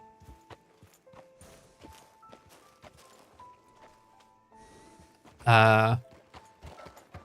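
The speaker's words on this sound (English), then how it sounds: "Why can I hear a horse there?" Faint horse hooves clip-clop irregularly under quiet ambient sounds in Red Dead Redemption 2, then a loud horse whinny bursts out briefly near the end.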